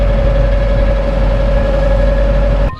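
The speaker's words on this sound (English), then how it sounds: "The water truck." A water truck's engine runs steadily near a hot beach in Side, Turkey, a constant loud low rumble with a droning mid tone, cutting off abruptly at the very end.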